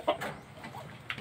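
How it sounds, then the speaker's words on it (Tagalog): Bird-like clucks and short calls from ducks, a few brief bursts at moderate distance over a quiet outdoor background. "Mga pato."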